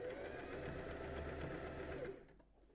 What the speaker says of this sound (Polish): jak przeszywacie następny odcinek, żeby igła była wbita w środek, tutaj w tą naszą gumę i brzeg, który obszywamy